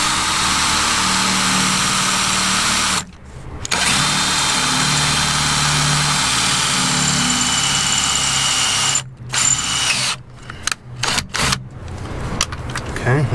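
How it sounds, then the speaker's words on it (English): A power drill fitted with a machinist bit grinds continuously into spot welds on a rusty Jeep Cherokee XJ floor, loud and close, stopping briefly once and then cutting out in several short bursts near the end. "Drilling spot welds, you want to listen for a little crack, and that means that welds come loose."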